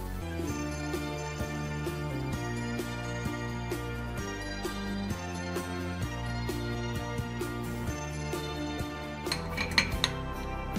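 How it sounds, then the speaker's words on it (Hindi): A spoon clinks steadily against a pan while beetroot blush cream cooks over a slow flame, the stirring giving a regular metallic rhythm that runs over a constant hum throughout. "आप इसको स्लो फ्लेम पर पकाना है और मुसलसल चम्मच चलाते रहें यहाँ तक कि ये क्रीमी फॉर्म में आ जाए।"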